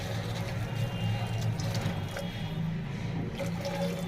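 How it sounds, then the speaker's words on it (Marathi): Lukewarm water poured into a pot of sprouted moth bean and potato curry, a continuous close watery rush with a low steady rumble throughout. "मी कोमट पाणी घालते अंदाजे एक तांब्यावर मी इथे पाणी घालून घेते"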